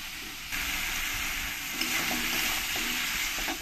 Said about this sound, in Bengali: টমেটোটা দিয়ে মশলার সঙ্গে ভালো করে আমি একটু সময় কষিয়ে নেব